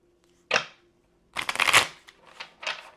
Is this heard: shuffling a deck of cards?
yes